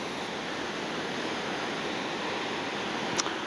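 The Impassable Falls on an Alaskan river roar in a steady, dense, broadband rush of falling water, loud and continuous, with no voices over it.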